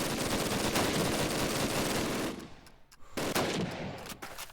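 Rapid automatic gunfire and explosions in a competitive shooter video game match, dense and loud for about two seconds, then a brief lull before more bursts of shots.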